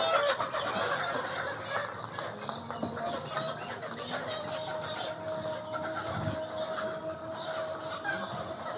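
Layer chickens in a poultry shed that held about 1,500 birds, clucking and murmuring steadily at moderate distance with a busy, continuous low chatter.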